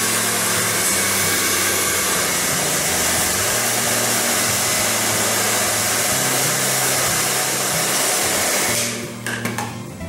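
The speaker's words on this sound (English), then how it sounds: "Take your handy dandy blow dryer," A hair dryer runs continuously with a loud, steady whooshing roar, then cuts off near the end with a few clicks.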